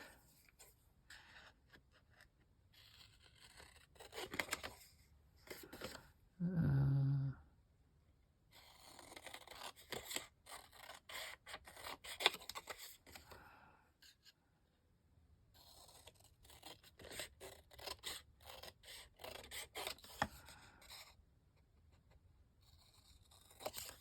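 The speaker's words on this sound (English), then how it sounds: "Let me cut these things out first." Scissors cut paper recipe pieces from printed pages. Quiet, intermittent snips and paper rustles come up close, with scattered scrapes, pauses and one louder thump.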